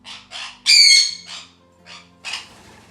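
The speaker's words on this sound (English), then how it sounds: "My birdies have called a timeout to me." Pet birds squawking indoors, a series of about six loud, harsh calls in irregular bursts close to the microphone, with no talking.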